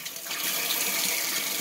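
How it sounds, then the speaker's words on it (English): Kitchen tap water running steadily for an aquarium water change, a continuous close splashing hiss from the faucet with no talking. "I'll turn my water on"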